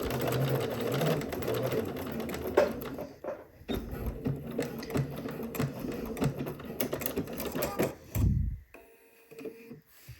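A sewing machine stitches a swimsuit at regular stitch length in short irregular bursts with small pauses, fairly quiet and close, ending with a brief louder thump.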